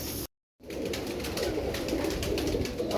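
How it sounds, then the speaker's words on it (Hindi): Pigeons kept by a pigeon fancier in Karachi coo softly and repeatedly against a noisy background, after a brief moment of silence at the start. "मेरे पास उस्ताद वाजिद आए कबूतर लेने दोबारा,"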